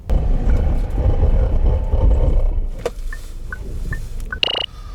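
A 2017 SsangYong G4 Rexton under a braking performance test, with loud broadband road and tyre roar for about three seconds that fades as the SUV slows, followed by a few short electronic beeps and a brief sharp burst near the end.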